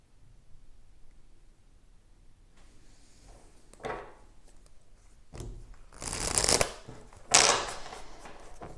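A deck of tarot cards is shuffled and cut, soft riffling and rustling that starts quiet, then grows into louder brisk bursts near the end, close to the listener with no talking.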